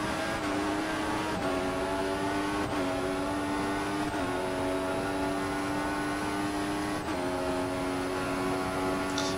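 Formula 1 cars race at Bahrain in a modded F1 2014 video game, engines screaming at high pitch with repeated gear shifts and rising revs, steady and loud with no pauses.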